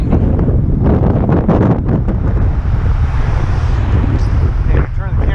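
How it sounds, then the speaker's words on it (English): Wind buffets the microphone in Taukbashçe Park in Pristina, a steady low rumble running through the whole stretch, with brief bits of talk near the start and end. "It's a little bit windy."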